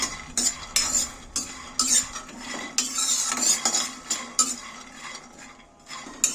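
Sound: peanuts being dry-roasted and stirred in a pan

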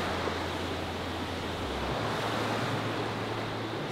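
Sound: waterfall at Multnomah Falls, Oregon

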